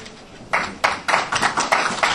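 Sparse, scattered hand claps from a small audience welcoming a cardiologist to the stage at a symposium, starting after a brief lull and continuing as roughly a dozen separate sharp slaps, close and moderately loud.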